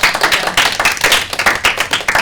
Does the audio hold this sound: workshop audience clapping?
yes